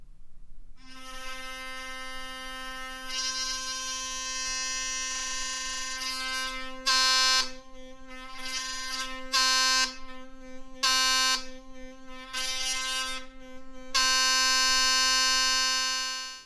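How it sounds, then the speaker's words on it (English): A harsh, loud electric buzzing drones nonstop from a Philips Sonicare Prestige electric toothbrush fitted with a Y-Brush head, with the sharp rattling whine cutting in and out in bursts toward the end. "it made the most horrific of sounds that makes using it pretty unbearable."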